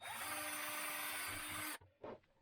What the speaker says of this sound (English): this is a 1/8 inch drill bit right here